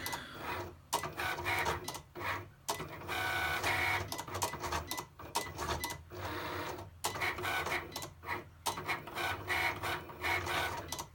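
A Cricut cutting machine works through a card in normal mode, its motor whirring and clattering in fast, irregular bursts with brief pauses as the carriage moves, fairly close and without speech.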